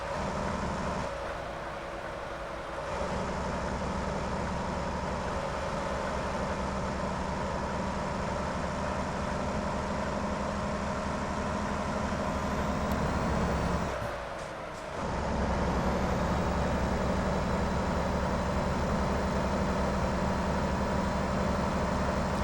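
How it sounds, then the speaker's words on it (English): A truck engine in a trucking game drones steadily at high revs, briefly dropping away twice as gears change before the hum picks back up. "Trying to work out where the power band is for this engine."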